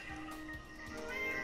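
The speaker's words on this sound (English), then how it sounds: "And my cat's crying like a little girl." A pet cat meows and cries in drawn-out, wavering tones, faint and somewhat distant, heard under a steady background hum.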